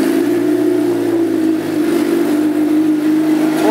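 A black 2011 Suzuki GSX-R750 sport bike idles steadily and loud, its engine note holding even with slight revving throughout, close to the microphone and without any voices.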